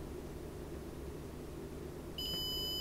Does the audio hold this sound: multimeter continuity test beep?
yes